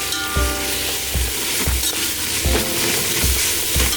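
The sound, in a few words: ginger garlic paste frying with whole spices, being mixed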